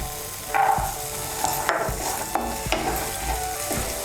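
Masala with green peas fried in a pan, spatula scrapes and taps recurring every half second or so over a continuous gentle sizzle, near and unaccompanied by talk.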